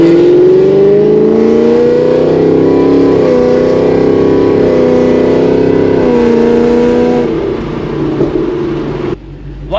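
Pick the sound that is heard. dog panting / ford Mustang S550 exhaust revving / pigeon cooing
ford Mustang S550 exhaust revving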